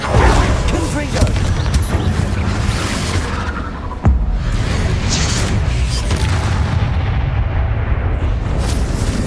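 Confringo fire-blast spells bursting in a Hogwarts Legacy fight, continuous heavy rumbling explosions with one sharp crack near the middle, loud and dense throughout, a voice casting and talking over the din.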